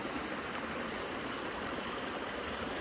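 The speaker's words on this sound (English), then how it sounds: "Now there is this little runoff that comes into it" Steady, continuous rushing of a small runoff stream pouring into a muddy, high-water lake at an access point, a broad even wash of water with no pauses or talk.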